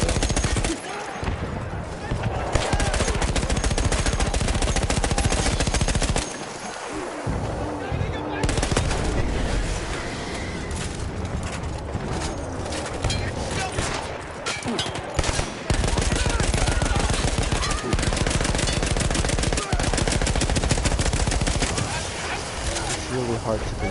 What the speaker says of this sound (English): Really hard to control this gun.